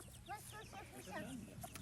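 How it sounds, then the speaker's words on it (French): A hen clucks in quick, repeated bursts close by, with a person's voice murmuring underneath. "Non, c'est ta poule, là."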